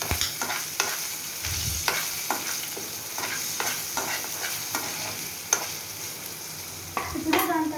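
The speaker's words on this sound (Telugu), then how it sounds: "ఇప్పుడు దీన్ని మంచిగా మిక్స్ చేసుకోవాలి" Salt and turmeric being stirred into sabudana khichdi in a pan, with repeated scraping spoon strokes against the metal over a soft steady sizzle, close and moderately loud.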